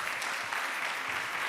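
Audience applause at a startup accelerator showcase, a dense, steady wash of clapping from a crowd, continuous and fairly loud throughout the short burst.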